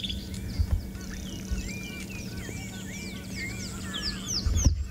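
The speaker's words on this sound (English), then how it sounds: "Lots of little birds calling." Many small birds chirp and twitter at once outdoors on a safari, a busy overlapping chorus of quick high calls over a low steady background hum, with a few louder low thumps.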